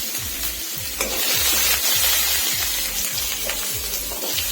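Dried red chillies, whole cumin and cubed onion frying in hot oil, giving a continuous loud sizzle with regular scraping strokes from stirring, close and without talk.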